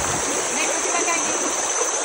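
Clear river stream in the upper reaches of Sungai Utik in a Borneo customary forest, flowing and splashing steadily as a broad, constant rush close by, with no talk over it.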